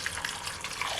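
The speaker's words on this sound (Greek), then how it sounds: "Θα βάλω νερό" Water pours steadily from a tap onto raw almonds while homemade almond milk is being made, a brief, close, continuous splashing rush with no talk.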